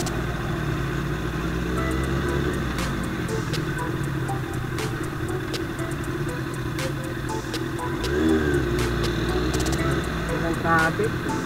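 Road traffic in Taytay, Rizal, with cars and motorcycles rumbling steadily nearby, engines occasionally revving, under continuous talk.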